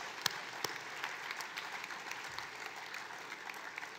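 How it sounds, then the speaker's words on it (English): Audience applause at a 2019 energy efficiency council gala honoring sponsors, a steady wash of many hands clapping with a few sharper claps standing out, sustained evenly for several seconds. "So let's join me in a big round of applause thanking these sponsors."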